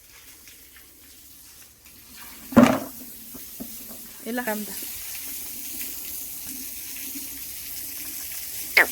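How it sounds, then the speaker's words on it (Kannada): Water poured over a calf's head during a bath in a village, falling in two short splashes against a quiet background, with people talking nearby. "ಅದಕ್ಕೆ ತಲೆ ಮೇಲೆ ನೀರು ಬೀಳಲಿ ಅಂತ ಸ್ನಾನ ಮಾಡಿಸೋದು."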